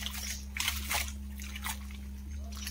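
Water poured gently over a surface in a home setting, producing intermittent soft splashes and sloshes close by over a steady electrical hum.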